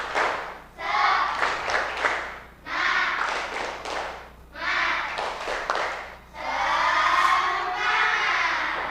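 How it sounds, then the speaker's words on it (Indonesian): Children in a classroom doing a rhythmic spirit clap, heard as four loud bursts of patterned clapping and tapping with short pauses between them, mixed with excited children's voices shouting along. "Setelah ini kita akan melakukan tepuk semangat dulu ya, biar semangat ya."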